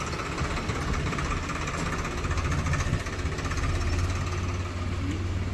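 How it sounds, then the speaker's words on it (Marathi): A tractor engine runs steadily on a village farm, a loud, constant rumbling drone with a rapid mechanical knock that holds throughout. "ट्रॅक्टर"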